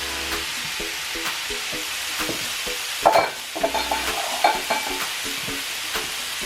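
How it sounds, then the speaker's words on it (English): Spaghetti squash and broccoli stir-frying in a pan, a continuous crackling sizzle with a few louder scraping stirs of a utensil partway through. "So let's get our spaghetti squash in there cooking,"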